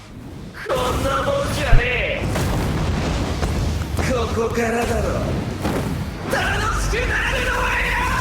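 Soul bomb attack in the mobile game Bleach Brave Souls, heavy booming explosion effects with shouted character voice lines over a dense, loud battle soundtrack.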